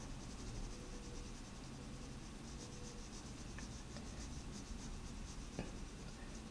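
An HB pencil shades steadily on paper while drawing an eye, making a soft, continuous close-up scratching with a faint background hum.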